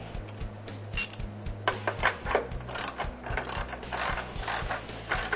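A ratchet tightens a motorcycle rear axle nut during a chain adjustment, its steady rapid clicking repeating throughout at a moderate, close level.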